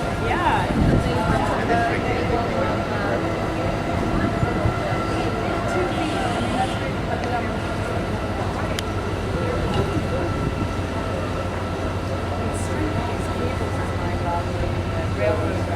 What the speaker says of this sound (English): You see the little train car pulling him up.